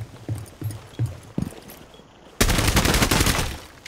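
Gunfire in the Rainbow Six Siege shooter on the Hereford Base map: several sharp separate shots, then a loud sustained burst of rapid fire that fills the last part at close range.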